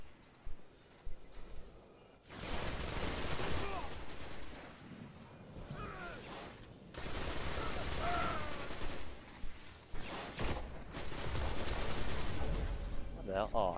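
Rifle shots from a Stillpiercer sniper rifle in Hunt: Showdown ring out in a few loud, broad bursts between quieter stretches, with some background game noise and a voice faintly present.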